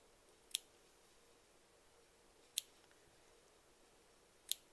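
Three separate sharp snips of scissors cutting fabric for appliqué, evenly spaced about two seconds apart, close and crisp against a quiet room.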